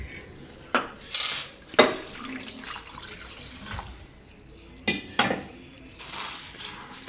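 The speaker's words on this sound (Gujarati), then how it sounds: "તો પહેલાં આ પૌવા છે એને આપણે ધોઈ નાખશું." Poha (flattened rice) is washed in water in a kitchen vessel, with splashing, running-tap sounds and utensils clinking against the bowl in short bursts, close and fairly loud.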